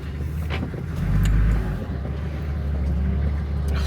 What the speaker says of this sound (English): I edged the vehicle backwards along the track